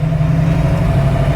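A car engine runs steadily at idle with a loud, constant low hum and drone, no talking, during work on tie rods and new brakes.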